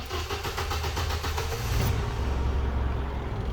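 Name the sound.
1980s car engine starting after carburettor refit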